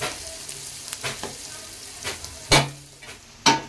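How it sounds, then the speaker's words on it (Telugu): Onions sizzle steadily in hot oil in a pan while shark fish pittu is cooked, with a few louder scraping stirs of a spoon cutting through the frying hiss; no one speaks. "చూడండి మన ఉల్లిపాయలు మంచిగా ఎగిపోయాయి ఈ విధంగా వేగితే సరిపోతాయండి"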